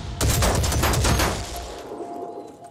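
Gunfire in the tactical strategy game Phoenix Point, with a car serving as cover: a dense burst of rapid shots over about a second and a half, then fading into a quieter ringing tail.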